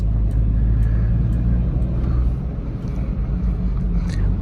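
Hyundai Santro car engine straining uphill in second gear on a road trip toward Leh, Ladakh, a loud steady low rumble with wind buffeting the microphone and no talking.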